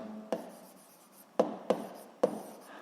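Chalk or pen writing a physics formula on a board in a school physics lesson, heard as four distinct taps and strokes with soft scratchy rubbing between them, close and fairly quiet with no voice.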